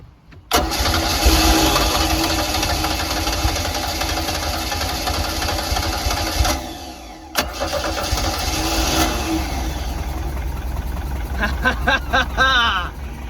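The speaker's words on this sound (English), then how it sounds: "We now have a running engine." A 1982 Sea Ray boat engine cranks and catches, then runs steadily and loud, dipping briefly before roaring on with a rough, continuous drone.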